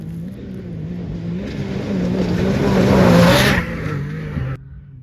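A Can-Am Maverick R side-by-side with tuned MTS suspension accelerates hard nearby, its engine note climbing to a loud peak around the middle before cutting off abruptly.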